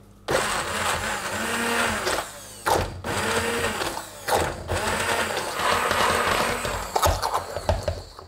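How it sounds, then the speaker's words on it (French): A blender purées cooked mushrooms for cream of mushroom soup. The motor whirs loudly in several bursts with brief pauses between them, and the pitch shifts as the mixture churns. "Fin de cuisson pour les champignons, on va maintenant les mixer."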